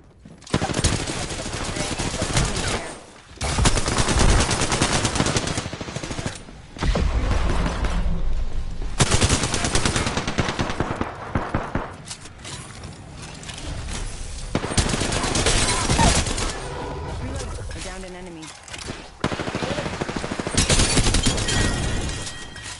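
Rapid automatic gunfire bursts in Apex Legends on the World's Edge map, repeated volleys with brief pauses between them, loud and close, with occasional short voice callouts in between.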